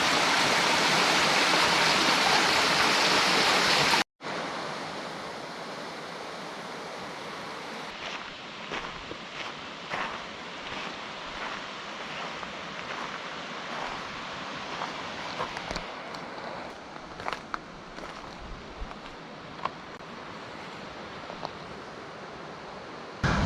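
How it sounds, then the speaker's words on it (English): A loud, steady roar of rushing water from a waterfall on Fish Creek Hill along the Apache Trail fills the first few seconds, then gives way to a softer continuous flow with scattered crunching steps nearby. "Look at this waterfall."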